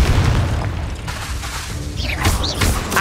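A Confringo blasting spell detonates in Hogwarts Legacy, a heavy, loud boom with rumbling low end, followed by fainter magical whistles and a second thump near the end.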